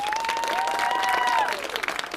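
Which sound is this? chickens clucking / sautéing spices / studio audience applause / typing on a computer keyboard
studio audience applause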